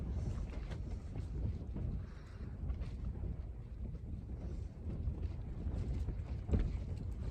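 Steady buffeting wind shakes a tent on Yes Tor, with low rumbling gusts and flapping fabric, a constant noisy roar with no voices.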